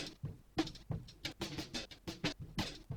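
Soloed synth sequence in a downtempo track, now treated with a microshift effect that softens and widens it, the same rhythmic pattern of short notes sounding smoother and slightly more diffuse.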